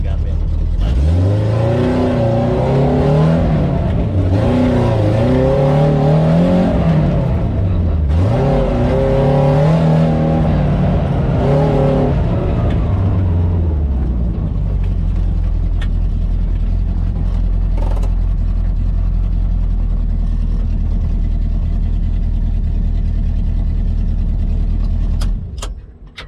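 A red 1983 Suzuki Jimny with a 1000 cc engine, modified for off-road, revs and shifts through rising and falling engine pitch on a test drive, then settles into a steady droning hum, loud and near.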